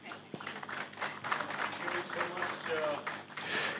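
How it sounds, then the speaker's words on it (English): An audience claps at the close of a design panel at an architecture and design festival in Delhi, moderately loud scattered applause under a person speaking. "We can clap a lot louder, yeah?"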